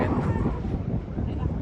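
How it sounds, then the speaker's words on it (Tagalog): Strong wind by a lake in Waterton, Alberta buffets the microphone with a constant low roar and gusty rumble, loud and close throughout. "Windy lang siya. Nasa hangin."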